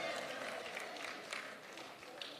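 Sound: audience clapping at a lecture

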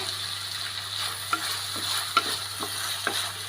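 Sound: green chilies added to beef frying in a pan

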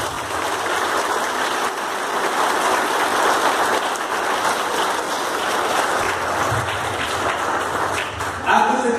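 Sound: congregation applauding at Mass

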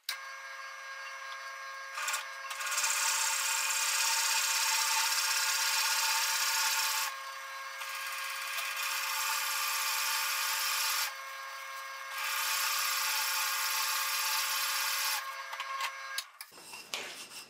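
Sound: drilling a hole in wood with a 3 1/4 inch Forstner bit

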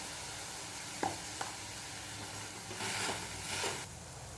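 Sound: vegetable being sautéed and stirred in pan

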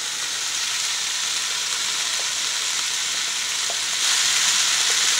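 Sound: sausage frying with onion and red bell pepper

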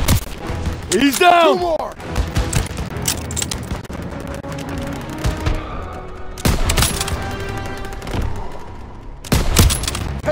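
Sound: gunfire in Call of Duty: WWII video game

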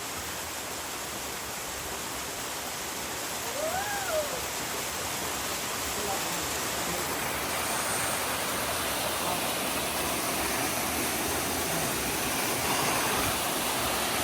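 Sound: waterfall flowing

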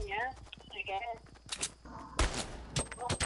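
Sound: gunfire in the video game Fortnite

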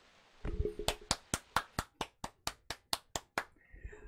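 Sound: applause

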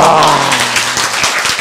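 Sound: audience applause

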